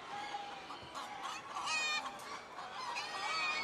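Chickens among hundreds of birds at a poultry show, with black rose comb entries, cluck and call in a busy hall, several bird voices overlapping at moderate loudness amid crowd noise, no clear speech.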